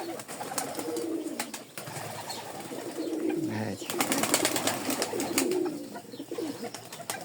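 Pigeons coo repeatedly in low, soft bursts after nearby explosions, with birds chirping faintly around them and a person speaking briefly over the calls.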